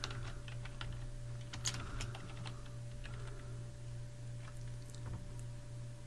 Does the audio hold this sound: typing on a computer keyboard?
yes